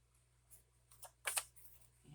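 Scissors snip through a thin strip of washi tape during a card-making session: a couple of quick, crisp cuts close by, clustered together in a quiet room with faint low hum underneath.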